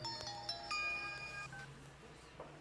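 A phone ringtone plays a bright, repeating electronic melody, moderately loud and close, with a low steady hum underneath.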